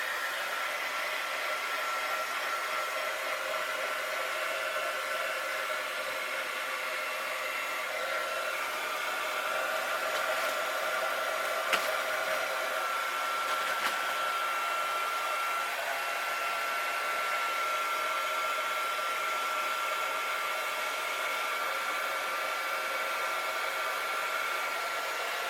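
Heat gun blasting hot air across a junk journal cover, a long, even roaring hiss with a faint tonal whine, uninterrupted and without speech.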